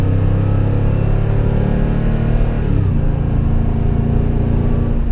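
A supercharged Toyota Tundra pickup in tow/haul mode accelerates hard, its engine a loud, close, low rumbling roar that climbs steadily before easing slightly near the end, with no voices.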